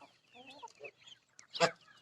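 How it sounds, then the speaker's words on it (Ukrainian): Soft chirping and clucking from young chickens up close, ending in a short louder squawk. "ось мої курчатка"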